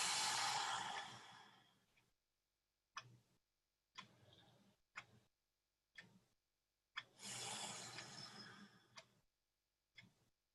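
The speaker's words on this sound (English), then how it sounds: "take a couple nice, slow, deep breaths in" Slow, deep breaths drawn in close through hands cupped over the nose and mouth after rubbing tangerine essential oil between the palms; two long airy inhales separated by soft clicks and faint shorter breaths in a quiet room.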